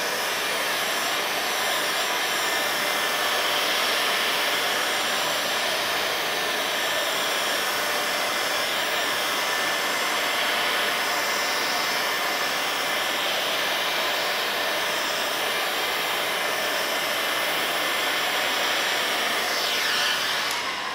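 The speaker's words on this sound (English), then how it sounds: "Again, heat gun over the shoulder." A heat gun blows hot air in a steady, loud, unbroken roar while dry-shrinking one-piece window tint film on a car window, holding constant for the whole stretch with no speech.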